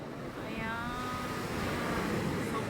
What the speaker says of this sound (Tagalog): sobrang mabalot, maalon-alon guys eh. Hindi tayo makalublob, nakakatakot kasi maalon siya eh.